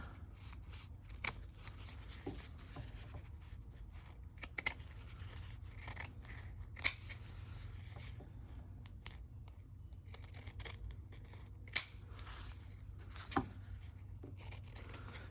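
Scissors cut fabric washi tape in quiet, scattered snips with small rustles of tape and paper between them, and no one speaks.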